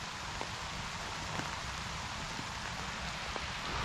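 Rain falls steadily during a fishing trip, a soft, even hiss of drops on surfaces with a few faint taps, heard alone and at low level throughout.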